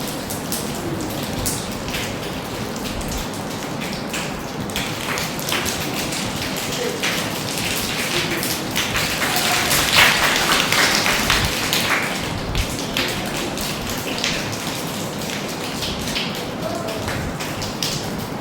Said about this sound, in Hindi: बारिश की बूंदे सुनी थी सबने अभी?